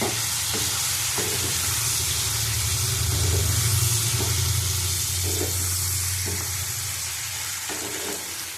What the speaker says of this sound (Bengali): চিংড়ি মাছ দিয়ে দিলাম। ভালো করে কষিয়ে নেবো আবার।